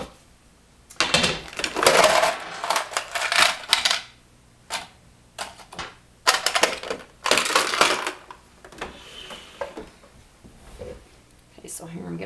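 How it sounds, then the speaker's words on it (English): A sewing machine stitches across two fabric pieces to join them for custom pajama bottoms, running in several short, irregular bursts of rapid mechanical chatter with brief pauses between. "now I'm just going to sew across those two and attach them together"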